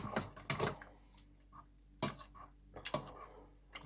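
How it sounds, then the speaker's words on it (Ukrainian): Pumpkin porridge with melted butter being stirred in a pressure cooker, a few close, clattering spoon-on-metal scrapes and knocks in short bursts separated by quieter pauses. "Зараз я перемішаю, масло у нас повністю, там ще кусочок плаває"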